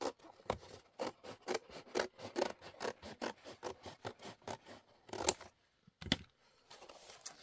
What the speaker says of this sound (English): So I'm just going to cut them out with my scissors.